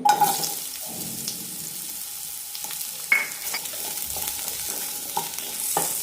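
Kohlrabi pieces sauté in a teaspoon of oil in a pan for a sambar, a steady soft sizzle with a few stirring scrapes, close and moderate, no talking.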